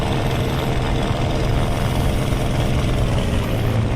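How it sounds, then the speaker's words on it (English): A propeller aircraft engine in the game Aces of Thunder strains under load during a slow climb, a steady, loud, broadband droning roar that holds constant without a break and carries no speech. "my engine's starting to yell at me"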